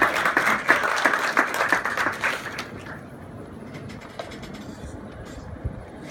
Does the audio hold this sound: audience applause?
yes